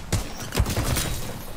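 Titanfall video game gunfire: a quick volley of several loud, punchy shots in close succession, followed by a fading tail.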